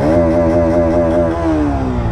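A Bajaj Pulsar 160 motorcycle engine held at full throttle, a loud steady droning roar up close that starts to ease and drop in pitch near the end.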